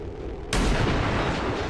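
A single heavy shot rings out in the video game XCOM 2, a sudden loud blast that hits after a brief quiet lead-in and then rolls into a long, booming decay.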